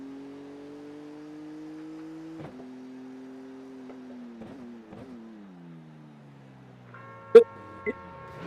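A faint, steady engine hum from a BMW GT3 race car stopped in the Suzuka pit lane in a video game idles at a low pitch and slowly drops. A few sharp clicks and a brief chime break in near the end.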